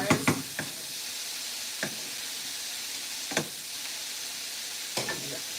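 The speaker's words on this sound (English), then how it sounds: "And I have it caramelizing." Food caramelizing in a hot pan on a stove turned up high, a steady low sizzle and hiss running throughout, broken by a few sharp knocks and stirring scrapes of a utensil.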